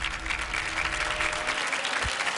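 Applause from a studio audience at a Nuestra Belleza Latina 2015 beauty pageant show, a steady, dense wash of clapping that stays loud and even throughout without pause.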